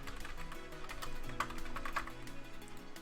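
Steady computer keyboard typing, a continuous run of quick key clicks at close range with no voices over it, during an Overwatch discussion stream.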